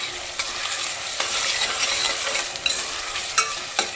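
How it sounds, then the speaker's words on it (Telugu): Large onions frying in oil for a chicken egg curry, with a steady sizzle broken by scraping stirs and a few sharp clicks of a spoon against the pan, close and alone. "ఆనియన్స్ వేగిపోయిందండి"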